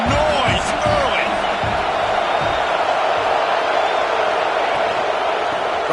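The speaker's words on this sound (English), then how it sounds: "This crowd bringing the energy and noise early." A stadium crowd at a Georgia vs Penn State football game roars in a loud, sustained wash of cheering, with an announcer's voice heard over the top.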